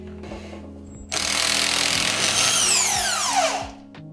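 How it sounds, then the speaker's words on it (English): Milwaukee M18 half-inch drive cordless impact wrench breaking loose a tight crank bolt on a Honda Civic engine, starting with a short click, then loud continuous hammering for about two and a half seconds before it winds down and stops. "this is an M18 standard half-inch drive impact"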